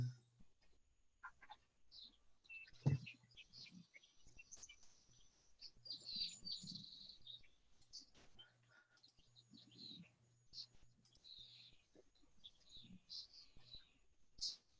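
Unfamiliar birds chirp in short, bright bursts scattered across the stretch, faint and fairly distant, with a low steady hum and a soft voice in the background.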